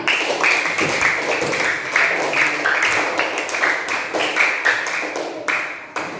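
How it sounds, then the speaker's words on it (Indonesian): A classroom of students clapping hands together, brisk and fairly close, with uneven claps bunching into bursts before thinning out near the end. "Tepuk tangan."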